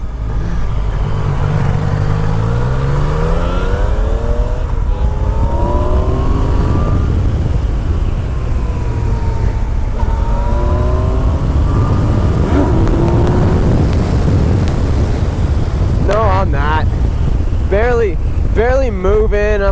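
A brand new motorcycle with 2,100 miles on it runs hard on a wet road, its engine loud and close, rising and falling through repeated gear-shift sweeps under steady wind roar, with a burst of revving near the end and voices talking over it.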